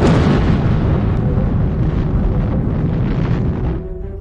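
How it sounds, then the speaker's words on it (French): A Massive Ordnance Air Blast bomb, the 9.5-tonne 'mother of all bombs', detonating in a test: a sustained, heavy low rumble and roar that holds steadily for several seconds before easing slightly, with wind buffeting, no voices. "La Massive Ordnance Air Blast, connue comme la mère de toutes les bombes, était mise à l'épreuve."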